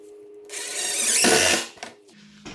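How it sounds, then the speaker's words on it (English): A power drill drives a 1¼-inch self-tapping pan head screw into a wooden raised garden bed, one short whirring burst of about a second that rises and cuts off, close up. "I'm just using 1¼ inch pan head screws to hold this down."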